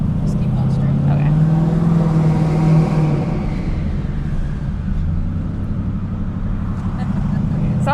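A twin-turbo Ford Mustang heard from inside while driving, with a loud, steady engine drone and a rising then easing pitch as the car pulls along.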